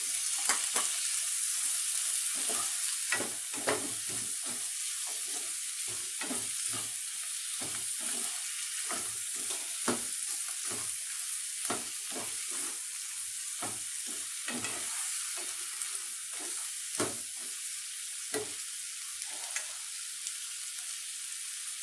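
Tomatoes sauté in a pan for paneer butter masala, giving a soft, continuous sizzle with frequent rhythmic stirring scrapes and clicks of a spoon throughout.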